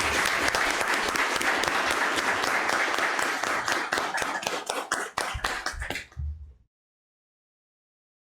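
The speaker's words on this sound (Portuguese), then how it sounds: "convido a todos que façamos uma salva de palmas em homenagem a todos esses grandes profissionais" Sustained round of applause from the audience at a city council chamber session honoring professionals, dense clapping that runs for about six seconds before quickly dying away into silence.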